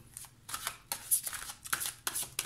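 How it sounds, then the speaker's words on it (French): Tarot cards are shuffled and handled close up in quiet, repeated bursts of riffling and sliding, several quick flurries separated by short pauses. "Je vais recouvrir les cartes pour avoir plus de précision"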